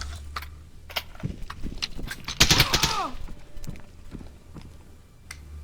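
Suppressed gunfire from a scoped, silenced M16 in the ExfilZone shooter game, a close burst of several rapid muffled shots clustered in about a second, amid footsteps and ambient game noise.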